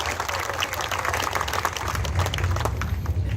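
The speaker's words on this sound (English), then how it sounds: "Give Bobby a nice round of applause" An audience applauds race car driver Bob Steyer, who ran the number 4 car, in a broad, sustained round of clapping at moderate distance, with crowd murmur mixed in and no pause in the sound.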